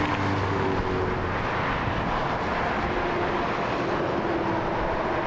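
Jet aircraft departing Las Vegas airport, a steady, loud broadband engine roar that holds evenly throughout with a low rumble underneath and no voices.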